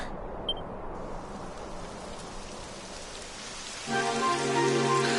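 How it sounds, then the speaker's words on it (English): Rain falls steadily in the video game Dragon Quest XI as a dense, even hiss of drops, joined near the end by a brighter layer of soft tonal game music over the downpour. "It would have to go and start raining, wouldn't it?"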